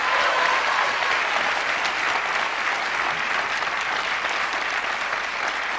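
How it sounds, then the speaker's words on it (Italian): Warm studio-audience applause greets Roberto Pregadio on a 1991 Italian television variety show, a full, loud, continuous roar of many hands clapping that holds steady throughout, close and unbroken. "salutiamo con un calorosissimo applauso questa valida colonna della trasmissione"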